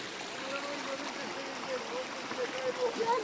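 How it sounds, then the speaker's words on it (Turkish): Waterfall in the Sinop rainforest in Türkeli, Turkey, giving a steady broadband rush of falling water, with a voice speaking over it. "Şelaleyi görüyorsunuz."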